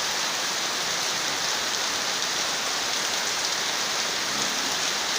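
Heavy rain falls in a thick, unbroken roar of drops hitting nearby surfaces, loud and constant throughout with no talking.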